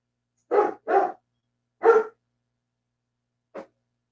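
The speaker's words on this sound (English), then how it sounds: "Listen to that stupid dog." A dog barks four times close by: two quick barks in succession, a third after a short pause, then a shorter, fainter one after a longer gap, with silence between.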